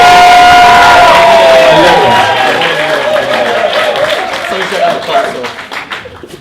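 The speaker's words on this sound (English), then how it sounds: "Give me a round of applause for Guy." Wedding guests break into loud applause and cheers for the best man, a dense wall of clapping and whoops that starts strong and gradually thins and fades out.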